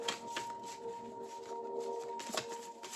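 Tarot cards being shuffled during a reading: close, soft, continuous riffling and sliding of the deck with brief flicking bursts, quiet and without talk.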